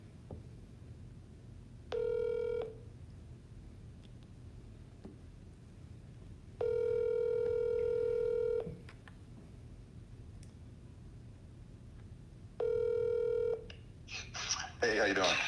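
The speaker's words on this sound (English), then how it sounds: "we're going to try to get Derek Brown on the phone here" Telephone dialing tones sound in three separate bursts, short then longer then short, clear and close over a quiet background hiss, as a call is placed.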